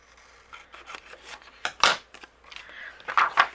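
Close scissor snips trimming patterned paper for a card, a few irregular cuts with paper rustling between them, alone without talk.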